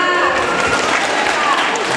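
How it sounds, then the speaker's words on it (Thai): An audience claps for the contest winner at a wildlife protection day awards ceremony, a continuous wash of applause with some tonal sounds and voices mixed faintly underneath. "ขอเสียงปรบมือให้กับผู้ชนะเลิศนะครับ"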